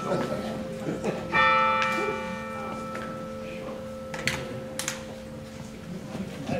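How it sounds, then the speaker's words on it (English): A church bell tolls once in a hall at a community election forum, its long ringing tone sustained and slowly decaying, with faint room noise and brief shuffling sounds around it. "I let the bell toll first."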